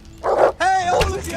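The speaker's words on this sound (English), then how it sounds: "Watch out! Dog!" A guard dog in Kingdom Come: Deliverance barks and yips loudly and close, two sharp bursts with a whimpering tone, set among alarmed guards in a game scene.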